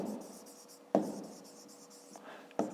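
A pen writes out a fifth-grade math exercise by hand, with soft scratchy strokes in short bursts broken by a few sharper taps as the pen touches down. The strokes sound close and fairly quiet, with no talk over them.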